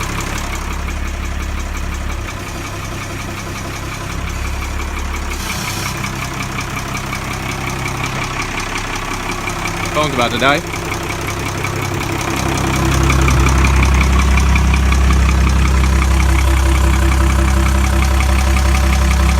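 A Ford Lehman 120 hp boat diesel with a Borg Warner 2:1 gearbox idles with a low rumble, growing louder and heavier partway through as it shifts into gear; a brief voice speaks in the middle.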